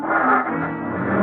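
A car pulling away in an old-time radio crime drama, a brief engine roar that swells and holds with a slight tire edge, loud and close, no voices over it.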